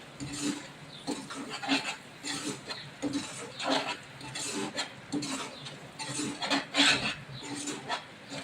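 A spoon scrapes and stirs masala through a potato and brinjal curry in a pan, giving rhythmic rasping strokes that repeat steadily at close range without any talk.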